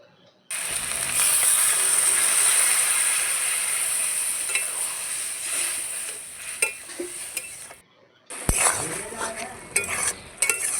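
Pabda fish head sautéing in spice paste with salt, chili and turmeric in a pan: a loud continuous sizzle with scraping stirs and clinks, a brief pause, then more sharp stirring knocks.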